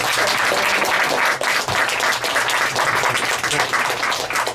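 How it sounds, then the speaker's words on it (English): Sustained applause from a sizable crowd, dense overlapping claps that hold steady throughout with small dips, no talking over it. "That was another round of applause."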